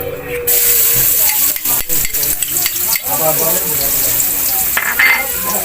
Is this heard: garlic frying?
yes